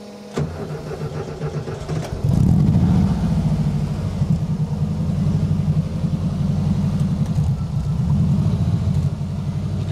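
A Subaru boxer engine fitted to a 1970 VW Beetle cranks briefly, catches, then settles into a loud steady low rumble close by, with no talking.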